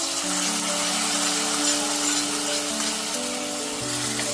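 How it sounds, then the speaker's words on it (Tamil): A hot tempering with curry leaves sizzles as it is poured into mango pachadi, a steady, fairly loud crackle and hiss that carries on unbroken with no talking. "கருவேப்பிலையை போடணும் இப்போ தாளித்ததாக மாங்காய் பச்சடியில் கொட்டணும்"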